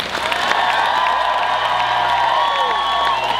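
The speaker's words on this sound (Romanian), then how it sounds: "Haideți să o aplaudăm mai tare!" A circus audience at the Chișinău arena claps and cheers, a dense, loud wash of applause with whoops and children's shouts, steady throughout.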